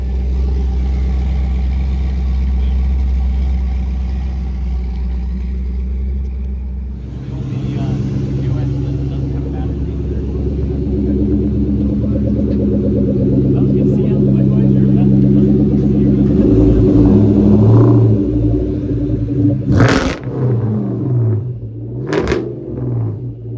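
Ford Mustang V8 engines, among them Cobra, SVT, Mach 1 and GT models, some supercharged, rumble loudly at an early-morning car gathering, with revving surges and a sharp blip near the end.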